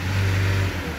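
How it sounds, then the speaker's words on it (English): A Renault Captur engine with a boost pressure fault revs briefly and loudly up close, a strong low drone that holds and then drops off near the end. "as I rev the engine"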